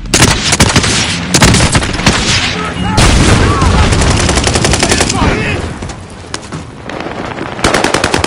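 Loud, close machine-gun fire in a video game, rapid bursts of shots with booms layered in, pausing briefly before another burst at the end, with faint voices beneath.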